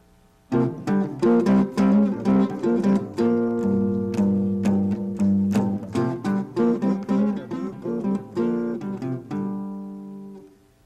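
Guitar plays a quick melodic line in two-note harmony in fourths, jazz chord-melody style, plucked notes in a lively rhythm with some held chords, clear and close.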